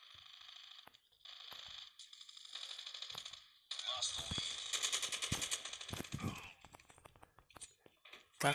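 Quiet bursts of rapid gunfire in the mobile shooter game Call of Duty Mobile, with repeated shots and clicks as a player speaks Portuguese over the action.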